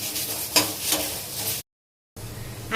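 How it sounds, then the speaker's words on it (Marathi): Coconut, tomato, ginger and garlic roasting in a pan for misal, with a steady hiss of sizzling and stirring, a brief scrape near the start, then a short silent gap before the frying resumes. "थोडंसं आलं घालूया आणि लसूण, आणि हे पण चांगलं आता आपण भाजून घ्यायचं"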